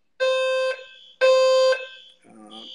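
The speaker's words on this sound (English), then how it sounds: "Oh, I feel like there's an alarm going off." An electronic alarm sounds two loud, sustained beeping tones, each about half a second long, followed by a weaker, lower tone. It plays alone, with no talking.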